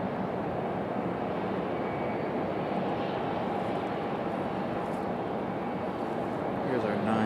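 A United Boeing 737 taxis out at Raleigh-Durham, its engines a steady, moderately faint rumble and whine from a distance, with a voice talking over it.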